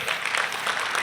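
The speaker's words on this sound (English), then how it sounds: "Give yourself a nice round of applause." Audience applause filling a room at a learning seminar, a dense steady patter of clapping hands held at an even level throughout, with no other sound standing out.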